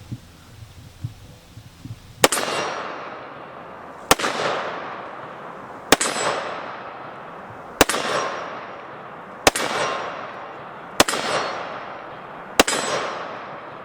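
Seven sharp, loud Desert Eagle .50 AE pistol shots ring out at a steady pace about two seconds apart, each with a long echoing decay, after a short stretch of quiet outdoor background.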